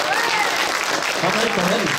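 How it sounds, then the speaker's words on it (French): A crowd at a voice-actor panel at a French fan convention applauds loudly and continuously, with cheering voices and chatter mixed into the dense clapping. "Vous pouvez les applaudir bien fort déjà quand même."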